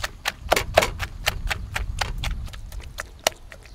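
Sharp, close knocks of a mortar and pestle pound ingredients for a tilapia fish curry sauce in a fast, slightly uneven rhythm.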